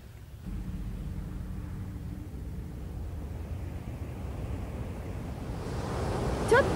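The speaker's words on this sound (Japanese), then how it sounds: "本物の海の音ですよ" Steady wash of ocean surf breaking on a sandy beach shore at Oiso Long Beach, a continuous broad roar with wind over the microphone, swelling slightly louder toward the end.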